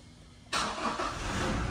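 A diesel car drives at speed, its engine and road noise rising abruptly after a brief quiet start and then holding as a steady, broadband rumble with no talk.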